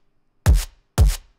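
Two punchy drum and bass kick drums with heavy parallel compression, each a deep booming thump with a bright clicky attack, struck about half a second apart and heard alone with no talk.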